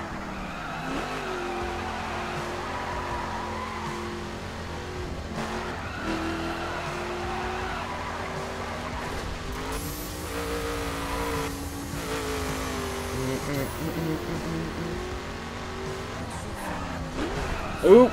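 A car in The Crew racing game spins out with no driving assists, its tires squealing and skidding over a steady engine drone for the whole stretch, with a voice talking over it at times.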